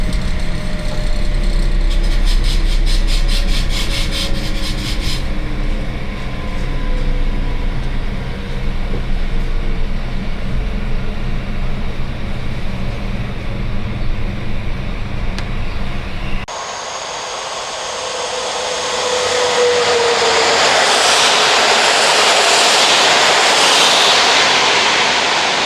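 Steady mechanical rumble of a clean, modern passenger train running through Poland, heard from inside the carriage. Partway through, the low drone gives way to a louder, brighter rushing hiss that continues to the end.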